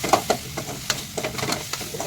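Ginger garlic paste frying in a pan and being stirred, with scattered scraping and stirring clicks over a soft, steady sizzle.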